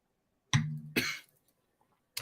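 A man gives two quick, harsh coughs in close succession, loud and close, with silence after.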